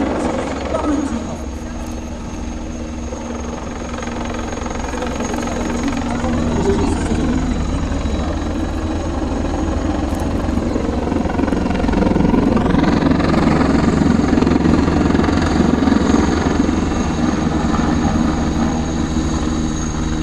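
A Tiger attack helicopter flies and manoeuvres, its heavy rotor and engine drone loud and steady, swelling stronger in the second half, while someone speaks over it.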